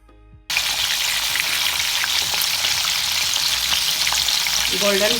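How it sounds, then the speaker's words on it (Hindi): Suji (semolina) cookies frying in oil over medium heat give a steady, loud, dense sizzle that starts after a brief quiet moment and continues unbroken to the end. "मीडियम आंच पे फ्राई हो रहे हैं।"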